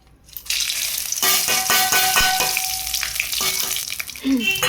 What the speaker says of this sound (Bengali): এখানে গোটা গরম মশলা আর তেজপাতা আমি ফোড়ন দিয়ে দিচ্ছি